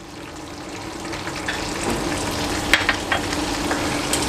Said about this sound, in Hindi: मैदे को मैं अच्छी तरह भून लूँगा जब तक अच्छी तरह ब्राउन ना हो जाए।